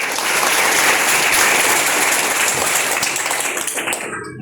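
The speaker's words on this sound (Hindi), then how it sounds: "एक बार अपने लिए जोरदार तालियां बजाएंगे।" Students clapping loudly at a school seminar, a thick burst of applause from a large group that stays strong for a few seconds and then trails off at the end.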